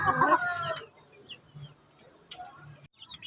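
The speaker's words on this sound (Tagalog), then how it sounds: "Ang lakas nilang kumain mga Rhode Island." Rhode Island Red chickens cluck and call while feeding on a farm, a loud burst of overlapping clucks and squawks at the start, then quieter scattered clucks and pecking with a brief squawk later.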